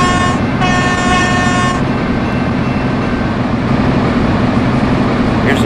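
Virgin Pendolino class 390 train running at speed through southern England in Train Simulator, loud steady rolling rumble with a tonal horn sounding for the first couple of seconds.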